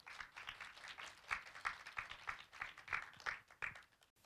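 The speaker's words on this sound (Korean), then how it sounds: "여러분 뜨거운 박수 부탁드리겠습니다" At a journalism awards event, a small audience applauds a speaker, with faint, rhythmic bursts of clapping that pulse evenly and fairly quietly for a few seconds before stopping.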